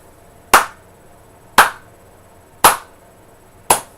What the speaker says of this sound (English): All I can do is slow clap that one